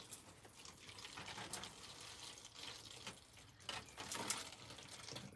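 Water poured back into a container at an allotment plot, a faint, steady trickle and splash with small surges of gurgling throughout, no voices.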